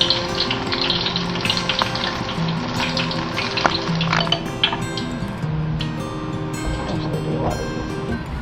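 Battered tempura vegetables frying in hot oil until golden brown, giving a dense, steady sizzle and crackle with scattered pops and bubbling, close and loud throughout.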